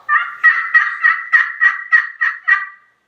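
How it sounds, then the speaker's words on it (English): Crystal-over-slate turkey pot call struck for a run of about nine sharp clucks in a steady rhythm, close and loud with no voices. "and you can do a cluck."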